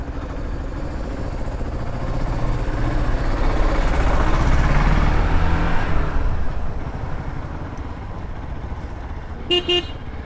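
A vehicle on a road slows and pulls over to the roadside, its engine and tyre rumble swelling then easing, with a short horn toot near the end.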